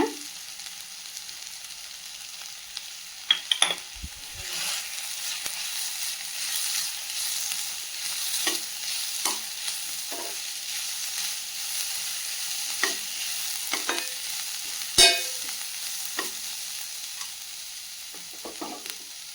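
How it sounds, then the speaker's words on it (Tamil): Ginger garlic paste sautés in a pan for mushroom pepper fry, giving a steady sizzle with occasional stirring clinks and scrapes. "நல்லா வதங்கி வந்தோன்னா இஞ்சி பூண்டு பேஸ்ட் ஆட் பண்ணிக்கோங்க"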